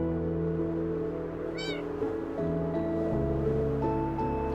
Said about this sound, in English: can hear the meows